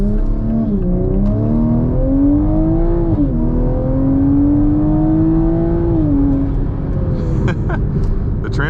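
A Toyota Supra in drive mode pulls away, its engine rising steadily and dropping at smooth, quick gear changes, heard loud from inside the cabin.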